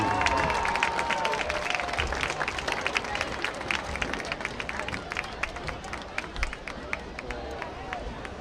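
A football-game crowd applauds and cheers for the Colerain High School marching band, dense clapping and hubbub that stays steady and fairly loud throughout.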